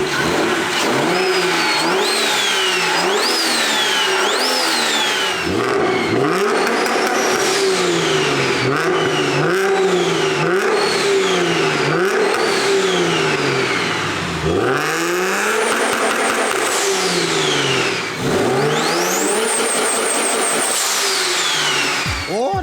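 A 700-horsepower BMW E90 with a tuned N54 engine accelerates hard and repeatedly, each loud rising rev pulling up through the gears before dropping at the shifts, with turbo whine clearly present and no talk.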